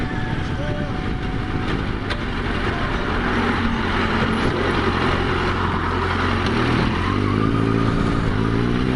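Triumph Speed Four motorcycle engine riding through town streets after repairs, a steady close droning hum with rising and falling revs and some clatter, loud and continuous throughout.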